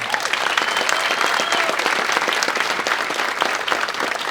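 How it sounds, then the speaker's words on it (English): Steady, dense audience applause at an indoor leadership awards luncheon, many hands clapping continuously and fairly loud with no talk over it. "Let's give Drew another round of applause."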